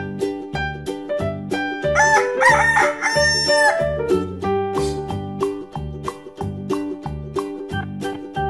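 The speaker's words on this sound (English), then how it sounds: "Rooster." A rooster crows several times in a wooden animal puzzle learning game, its loud calls rising over a steady backing of bright, rhythmic children's music.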